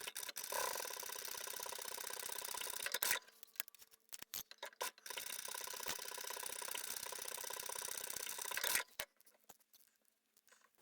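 A sewing machine stitches through fabric layers of a phone case in two long, fast mechanical runs, separated by a pause with a few clicks and a soft hum trailing off at the end.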